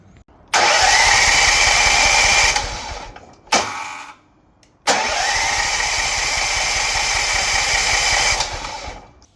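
Small Hyundai four-stroke engine fed with fresh fuel fires up and runs with a loud, buzzing mid-pitched drone, cuts out briefly, sputters once, then restarts and runs steadily before dying away.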